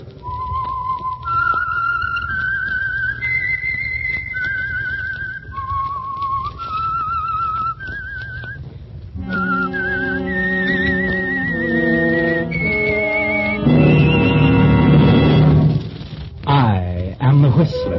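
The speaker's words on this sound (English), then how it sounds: "That whistle is your signal for the Signal Oil Program" A lone, clear whistled melody with sliding pitches plays for several seconds as the opening signal of the radio program The Whistler, then a full orchestral passage swells in and takes over.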